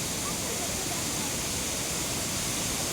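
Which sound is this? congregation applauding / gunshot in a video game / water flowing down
water flowing down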